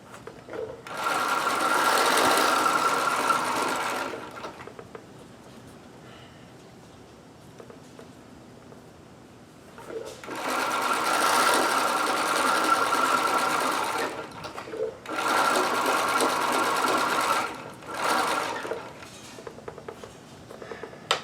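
A sewing machine stitches elastic onto underwear in three long, steady runs of loud, rapid whirring, separated by quiet pauses.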